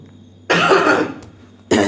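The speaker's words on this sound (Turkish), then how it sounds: "Çok pardon ben öksüreceğim de çok pardon." Two harsh, loud coughs close to the microphone, the first drawn out and the second starting right at the end.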